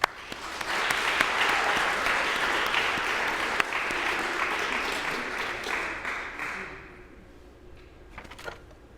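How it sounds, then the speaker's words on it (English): Applause from a large convention audience for election candidates at a state FFA convention session, a broad steady clapping wash with a few sharper claps, fading out over the last few seconds. "Let's give a round of applause for our candidates."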